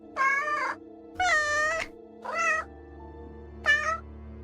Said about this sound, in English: Ooh, you can pet the cat.